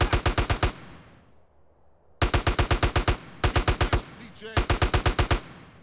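Automatic gunfire in GTA San Andreas, four rapid bursts of evenly spaced shots, loud and close, with short gaps of quiet game ambience between them.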